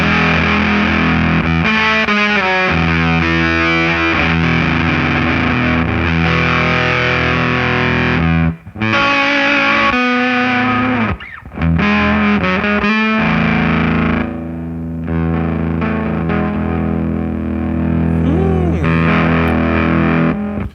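An electric guitar on its bridge pickup runs through a 90s Dunlop Fuzz Face pedal, a loud, thick fuzzy stream of riffs and sustained chords with brief pauses, continuous for about twenty seconds without talk.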